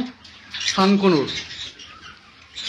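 Blue yellow-sided conures kept for sale give sharp, raspy squawks in a short burst close by, with softer chirps and rustling around them, set against a faint background.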